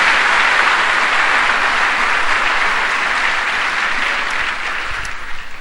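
A church congregation applauding together, a loud, dense wash of clapping that holds steady and then begins to taper off near the end.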